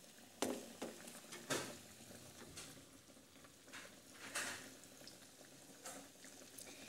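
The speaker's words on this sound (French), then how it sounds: "Mets-le pour frire dans de l'huile chaude au feu doux." Chicken frying in hot oil over low heat, Kentucky fried chicken style, a faint steady sizzle with occasional brief crackling bursts, close but quiet.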